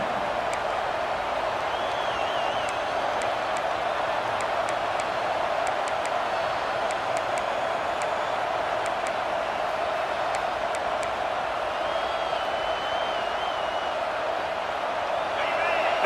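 Steady stadium crowd roar in a Miami vs Georgia college football video game, a continuous wash of massed voices holding at an even level throughout, with faint whistle-like tones and scattered sharp ticks on top.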